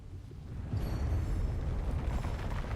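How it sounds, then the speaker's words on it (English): A bomb blast in the video game AFK Journey, a deep rumbling boom that erupts suddenly and rolls on steadily, loud and sustained with no speech. "I'm going to create the biggest bomb in the world! Explosion time. Watch out for the bomb."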